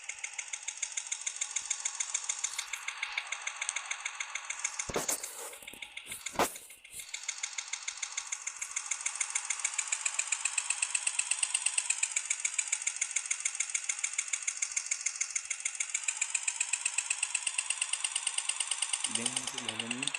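A motorbike engine runs steadily and close by on a road ride, a continuous buzzing drone that briefly dips around the middle before settling back to an even hum.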